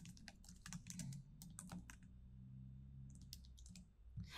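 Steady typing on a computer keyboard, with quick clusters of crisp key clicks, a brief pause, then another short burst, close and clear with no speech.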